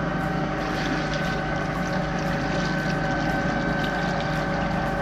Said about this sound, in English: we have one last thing to do, and that's to test our bow thruster